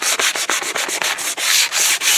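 Sandpaper rubs back and forth over a wooden hiking stick with a factory finish coat, in quick regular strokes of close, raspy scratching and brief pauses between passes.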